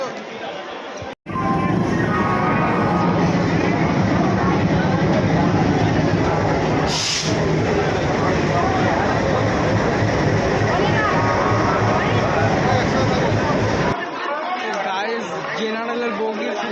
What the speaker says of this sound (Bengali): ট্রেন দিয়ে দিয়েছে আমাদের প্ল্যাটফর্মে।